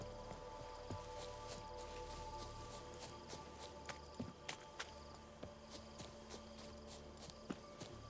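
Horse hooves in The Witcher 3 game, a quiet irregular series of soft thuds over a steady ambient bed, faint and somewhat distant with no talk over it.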